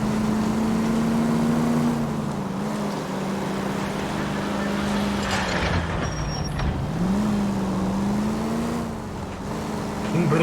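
Steady engine drone of a car driving through a tunnel in a 2011 video game, a continuous low hum that rises and dips gently in pitch throughout.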